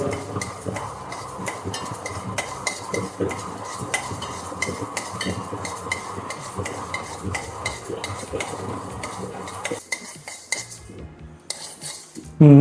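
Mustard seeds roast in a pan while a metal spoon stirs and scrapes them steadily, giving rapid clinks and a light crackle, close up, with a brief clatter at the end and no speech.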